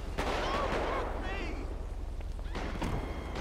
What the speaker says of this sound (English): They shooting right down the block.